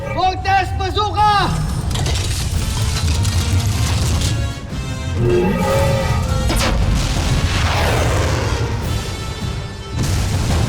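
The Voltes V Bazooka fires in an animated show, with loud booming blasts and crashing impacts over sustained rumbling, and a voice shouts over the barrage.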